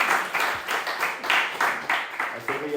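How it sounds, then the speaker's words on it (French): Congregation clapping in unison for the Lord at a New Year church service, steady rhythmic bursts of claps about three per second, moderately close and continuing without a break. "On peut applaudir quand même au Seigneur pour cette nouvelle année."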